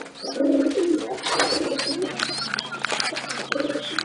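Racing homer pigeons coo repeatedly nearby in a loft, with low, rolling coos recurring through a busy mix of other bird chirps and background noise.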